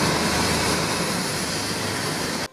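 Loud, steady roar of an Apache attack helicopter's turbine engines and rotors, a dense continuous wash of sound close by that cuts off abruptly at the end.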